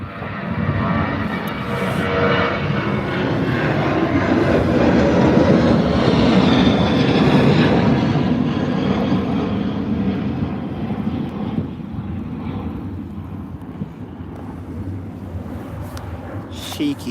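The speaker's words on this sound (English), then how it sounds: "Cheeky Jet 2 off to Alicante." A Jet2 airliner takes off from Birmingham Airport bound for Alicante, producing a loud, steady engine roar that holds for many seconds and then slowly fades as it climbs away.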